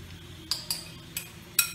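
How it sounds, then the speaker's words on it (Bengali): Salt and turmeric stirred together in a bowl for an aloo katla dolma, giving four light, separate clinks of spoon against bowl over a quiet background. "এবার এটাকে ভালো করে মিশিয়ে নেব।"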